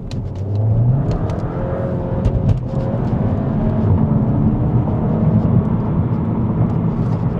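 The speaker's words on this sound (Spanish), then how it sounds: "poner modo Sport y acelerar a fondo mientras presionas el freno" A 2026 Skoda Octavia VRS in Sport mode holds a steady, loud engine rev with the throttle floored while the brake is pressed, a droning roar with a brief rising sweep near the start.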